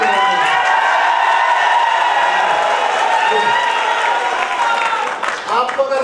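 Seminar audience at a training session clapping and cheering loudly, a dense continuous wash of applause with a few shouts, fading near the end.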